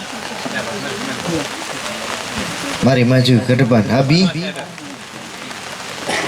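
Steady rain falls throughout with a constant hiss, while people talk during an Indonesian family worship gathering and a voice speaks clearly over it in the middle.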